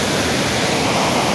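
Strong sea waves crash near a fishing spot, giving a loud, dense, unbroken roar of surf with no speech.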